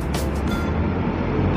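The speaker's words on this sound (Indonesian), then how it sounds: "Ini dia ada bus Harapan Jaya datang" A Harapan Jaya bus pulls into a bus terminal with a brief, loud, close engine rumble and a short hiss near the start.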